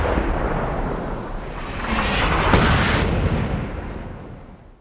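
Artillery explosions in the video game Fallout 4, a continuous heavy rumbling barrage that swells to a loud peak midway and then fades, with no talking.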